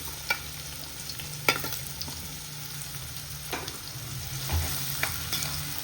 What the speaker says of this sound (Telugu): ఇప్పుడు ఆయిల్ హీట్ అయిపోయింది. ఉల్లిపాయలు వేసేసుకుందాం. పచ్చిమిర్చి కూడా వేసేసుకుందాం.